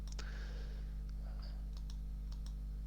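Several sharp, faint computer mouse clicks in irregular succession, heard alone over a steady low electrical hum while editing text in PowerPoint.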